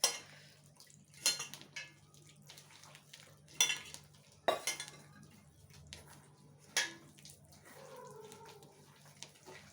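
Cornflour pakoda batter stirred with water in a bowl, giving intermittent wet scraping and clinking strokes at close range, a few sharper clatters standing out against a quiet kitchen background with no talking.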